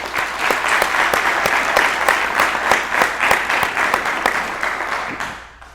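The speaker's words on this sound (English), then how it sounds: "Ladies and gentlemen, please give the guests of 1166 a round of applause." Audience at a Class 1166 graduation ceremony giving a round of applause, a full, lively clapping that keeps going and then tapers off toward the end.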